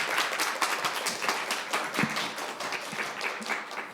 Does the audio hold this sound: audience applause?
yes